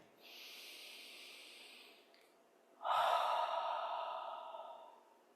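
Slow, deep breaths during a cardio flow workout: a long steady exhale, a short pause, then a louder, fuller breath close to the mic, with no talking.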